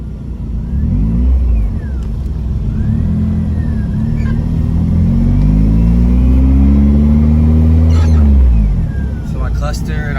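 Toyota MR2 Spyder with a K24 engine swap accelerating on a test drive, heard from inside the cabin: a loud, steady mid-pitched engine drone rising through the gears with repeated climbing revs and brief dips at the shifts.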